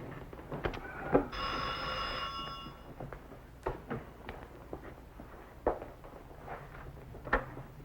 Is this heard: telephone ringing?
yes